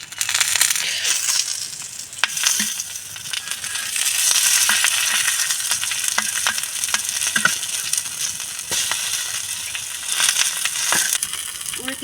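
Hilsa paturi sizzles loudly in a pan, a dense crackling hiss broken by clattering knocks as the lid is lifted and the parcel is flipped.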